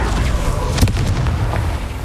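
A Confringo blasting curse goes off in Hogwarts Legacy, a single sharp boom near the middle of a dense, rumbling game soundscape that stays loud throughout.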